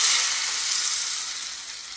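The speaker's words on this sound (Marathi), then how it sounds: "त्यानंतर मी ते पॅनमध्ये तेल गरम केलं आहे त्याच्यामध्ये मोहरी टाकायची" Loud, bright crackling sizzle of seeds spitting in hot oil, close up, gradually easing off over a couple of seconds.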